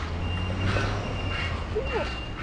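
A truck's reversing alarm beeps steadily at a distance over low engine rumble while backing into a driveway on a farm, with voices talking nearby.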